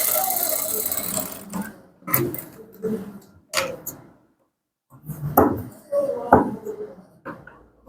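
A sewing machine stitches down the lining of a high-waisted women's trouser in short, stop-start bursts of stitching, near and fairly loud, with gaps between runs.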